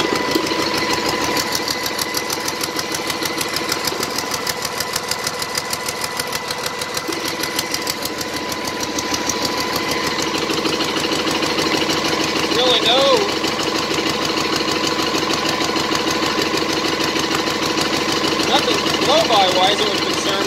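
Cummins 6BT ISB diesel engine idling with a miss, a steady loud rumble whose rhythm turns uneven and stumbling as the misfire develops, close to the microphone.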